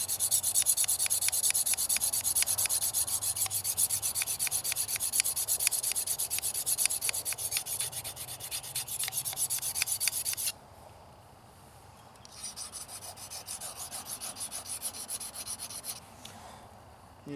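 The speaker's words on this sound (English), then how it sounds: "All you're doing is just getting the burrs off of it." Metal file or stone deburring the back side of a crook knife blade outdoors, a fast rhythmic scraping rub repeating for about ten seconds, a short pause, then more quieter rubbing strokes.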